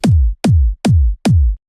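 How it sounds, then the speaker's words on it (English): Four big, booming trance kick drum hits with long decaying low-end tails, evenly spaced and played alone. "For the kick, you want to look for a pretty big and long trance kick like this one,"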